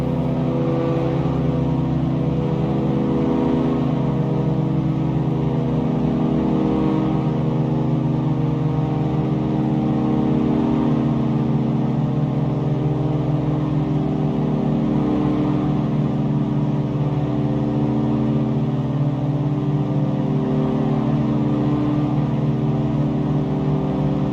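Twin piston engines of an Aerostar 601P in X-Plane 11, throttled back to 2,300 RPM at cruise around 11,000 feet, hold a steady, loud, even drone with layered harmonic hum throughout, with no talk.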